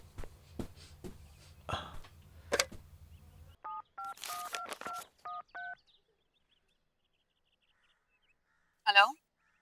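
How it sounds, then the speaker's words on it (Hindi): A telephone is dialed: a series of about seven short touch-tone beeps in quick succession, close and clear, following some muffled movement and a voice, with a brief sound near the end. "मैं आपका फोन यूज कर सकता हूँ प्लीज?"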